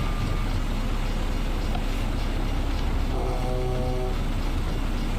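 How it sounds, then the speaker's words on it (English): A train rumbles steadily past in the American Truck Simulator game, a loud continuous roar with a brief tonal horn-like note near the end and no talking. "Of course the train would come right now."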